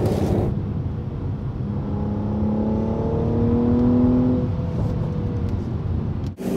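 A 2016 Mercedes-Benz GLE450 AMG Coupé drives on the road, heard from inside as a steady engine drone with a rising whine through acceleration that then settles back to cruising.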